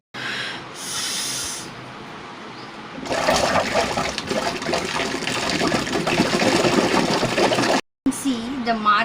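Water is poured into a measuring vessel marked in millilitres, a steady splashing stream lasting several seconds after a brief earlier trickle, with speech around it.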